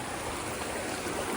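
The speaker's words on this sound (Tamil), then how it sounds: "Small water fall." Small waterfall at Ayn Athum in Oman, a steady broadband rush of falling and splashing water, close and continuous throughout with no voices.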